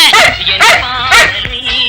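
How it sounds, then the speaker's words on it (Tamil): A dog barks and yips several times in quick, loud bursts close by, with a whimpering edge between barks. "என்ன குலைக்கிற"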